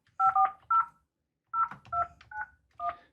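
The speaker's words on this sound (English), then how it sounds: "simply dial the phone number" Keypad tones from a Yealink T48S desk phone: a string of clean, close electronic beeps as a number is dialed, in two quick clusters with a brief pause between, no voices.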